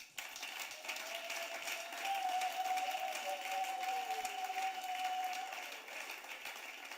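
A church congregation at a Sunday thanksgiving service claps in steady, sustained applause, filling the room evenly, while a faint sustained tone sits under the clapping.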